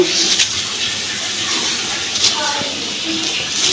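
Tap water runs steadily over fish pieces being rinsed, a close, even gushing stream with faint splashes and handling noises throughout.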